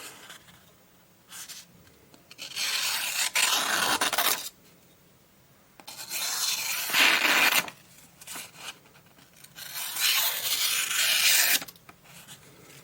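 A Morakniv 120 woodcarving knife shaves wood in three long rasping strokes separated by short pauses, close and moderately loud, with no talk.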